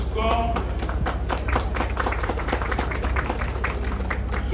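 A crowd applauds at a National Police of Haiti graduation ceremony, with dense, steady clapping throughout at a moderate distance.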